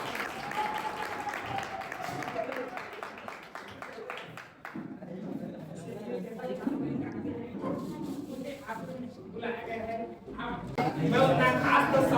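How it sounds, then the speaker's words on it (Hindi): A crowd claps and cheers in a burst of applause at a school's last-day event in Chhattisgarh, India, with a voice speaking over it and the clapping swelling louder toward the end. "एक बार जोरदार तालियां."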